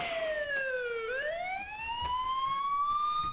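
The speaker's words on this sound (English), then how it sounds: "That sounds like sirens." Emergency vehicle sirens in the Spider-Man 2 video game, a wailing tone sweeping down then rising again, fairly close and steady over a quiet background.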